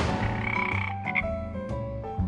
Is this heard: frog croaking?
yes